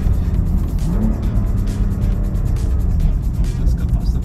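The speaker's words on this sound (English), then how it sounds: "It's got a nice little crackle over the exhaust as well." Loud, close engine roar and road noise from a BMW M3 accelerating, with the exhaust giving off a steady crackle.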